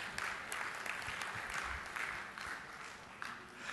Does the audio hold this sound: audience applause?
yes